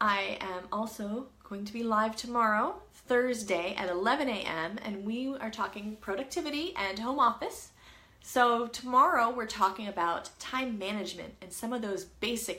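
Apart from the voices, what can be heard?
None of the usual background noises is heard.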